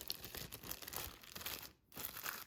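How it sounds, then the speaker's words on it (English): A plastic bag crinkles and rustles as salt dough is placed inside, with crisp tearing-like crackles, a brief pause near the end, then more handling close by. "You're going to take a plastic bag,"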